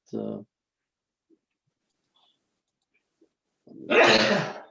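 A single close sneeze bursts out loudly after a short spoken word and a few quiet seconds, during a virtual board meeting.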